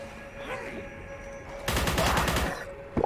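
Gunfire from the Lovecraftian indie shooter game Forgive Me Father, a burst of rapid repeated shots lasting about a second over a steady game ambience, with no talk.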